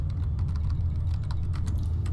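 Rapid, continuous keystrokes on a new computer keyboard, close and clear over a low steady hum, with no voices.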